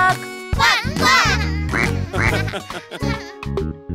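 A voice imitates a duck, with repeated rhythmic quacks in a high, nasal tone, loud and close, sounding like an animated character.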